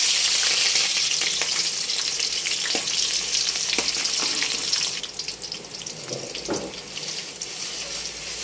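Ginger paste frying in a pan for chicken curry, a loud steady sizzle that eases slightly partway through, with occasional scraping taps of a utensil stirring close by.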